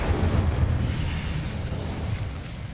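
Incendio fire spell cast in Hogwarts Legacy, a dense roaring burst of flame with heavy low rumble sustained across the moment, loud and close with no voices.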